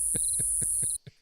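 A cricket chirps four times in an even, steady rhythm over a constant high ringing tone, then the sound cuts off abruptly into near silence.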